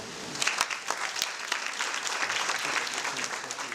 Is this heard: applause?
yes